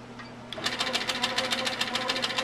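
A sewing machine stitches a quilt block with a steady, fast rhythmic clatter that starts abruptly and runs close and clear to the end.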